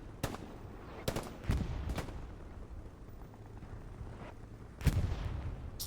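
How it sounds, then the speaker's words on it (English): A destroyed IS-1 tank in the Hell Let Loose battlefield game explodes, sending out several sharp blasts and bursts of gunfire over a continuous rumble of battle noise, with the last big crack coming near the end. "That IS-1 is gone. But as is custom, we're gonna watch the explosion."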